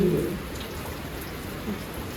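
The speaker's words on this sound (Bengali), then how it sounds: "হঠাৎ শুরু হয়েছে বৃষ্টি" Steady rain patters on a surface, a constant close hiss of drops with a faint voice at the very start.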